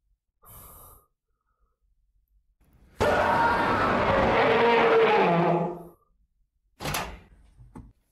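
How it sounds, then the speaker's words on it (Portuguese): A heavy door grinds open in a video game, a loud rumbling rush that swells for nearly three seconds and then cuts off, set between short isolated thumps and noises. "a porta abriu"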